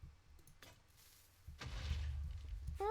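Dynamite explodes in a modded video game: after a quiet stretch with a few faint clicks, a sharp blast breaks out and settles into a sustained low rumble.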